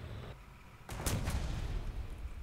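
Tank cannon fire in War Thunder, a ground battle test against a Maus heavy tank: one loud, sudden blast with a sharp crack, followed by a sustained rumbling tail, alone with no talking.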